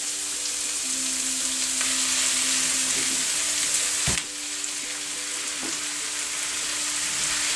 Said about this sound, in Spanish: vamos a freír todo a fuego alto durante unos minutos para que la piel se dore un poco